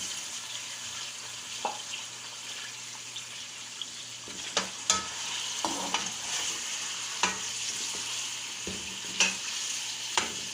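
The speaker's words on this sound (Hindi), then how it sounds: "अब हम इसे थोड़ा सा फ्राई कर लेते हैं" Chicken frying in oil for a chicken biryani, a steady loud sizzle with occasional sharp clicks and stirring scrapes, no voices.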